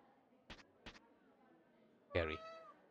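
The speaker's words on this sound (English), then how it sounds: "Have we ever met Kitty Cat?" In the video game A Space for the Unbound, a single clear cat meow follows two short, crisp clicks against a quiet background.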